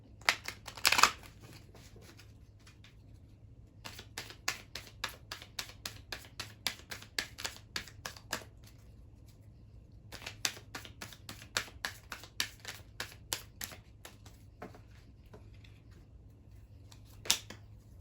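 Archangel Oracle cards being shuffled and handled, with quick bursts of crisp card riffling and flicks separated by quiet pauses, recorded close up and with no speech.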